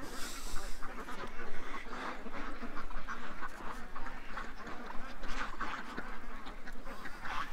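A flock of ducks quacks continuously and loudly as they are let out, dense overlapping calls close by with constant chatter throughout.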